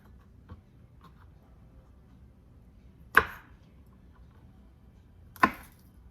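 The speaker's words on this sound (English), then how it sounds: "Now we're going to cut off all the ends of our peppers" Knife slicing the ends off peppers on a cutting board for hot sauce: two sharp, isolated chops a couple of seconds apart against a quiet background.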